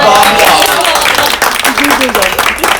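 Applause from a crowd gathered at a village toy-giving event in Erzincan, loud and continuous throughout, with voices mixed in.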